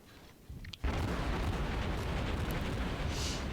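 Heavy naval guns fire in World of Warships, a loud rumbling boom around the one-second mark that rolls into a sustained dense roar and reverberation, with no voices.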